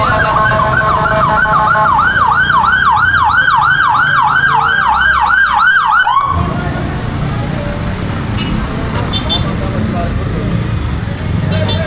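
An ambulance siren wails in rapid rising-falling cycles over road noise as it arrives at an accident scene, then cuts off abruptly, leaving traffic rumble and a faint voice.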